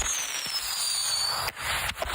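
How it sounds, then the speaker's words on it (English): Fireworks at a rural house fade out in a long sizzling hiss with a faint whistle, then a couple of sharp distant pops near the end. "I always love how fireworks trail off"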